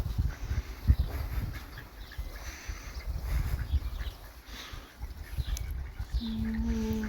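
Outdoor ambience with ducks splashing in water and low rustling, birds calling faintly in the background; a brief tonal note appears near the end.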